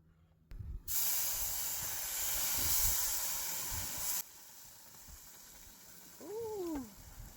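Tomato sauce hits golden-browned frying rice in a pot, bursting into a loud, steady sizzle and hiss that lasts a few seconds before dropping to a softer crackle, with a faint chirp near the end.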